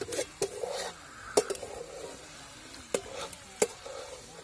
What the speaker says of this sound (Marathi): आपल्याला 5 मिनिटं परतून द्यायचं आहे आता व्यवस्थित